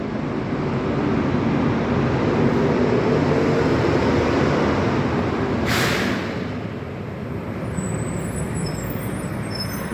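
A loud, steady rumble of a truck engine running close by, broad and continuous throughout, with a brief hiss partway through.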